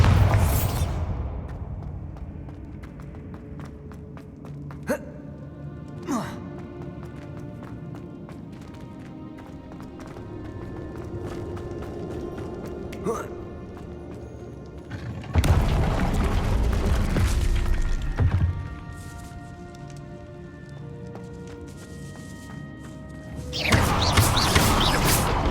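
Bombarda blast spells in Hogwarts Legacy burst out as loud broadband booms, one near the start, a longer roar mid-clip and another at the end, over steady game ambience and scattered impacts.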